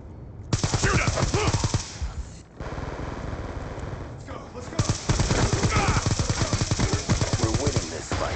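Rapid automatic gunfire in a video game firefight, dense bursts of loud cracking shots with a couple of brief pauses, close and intense, alongside faint game voice callouts.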